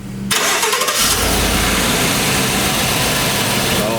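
A GM car engine cranks briefly, then catches and settles into a steady, loud idle close by.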